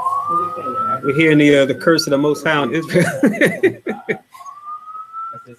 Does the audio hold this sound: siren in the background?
yes